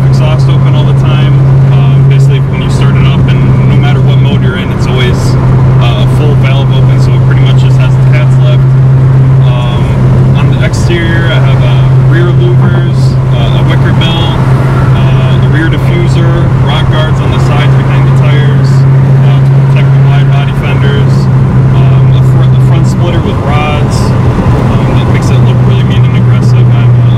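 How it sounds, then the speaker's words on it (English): A 2019 widebody Dodge Challenger Scat Pack with mid-muffler and resonator deletes and the active exhaust held open, droning loud and constant at cruise with a steady low exhaust hum throughout, while someone talks over it. "I have a couple things done to the exhaust, a mid-muffler delete, a resonator delete, and an active exhaust fix."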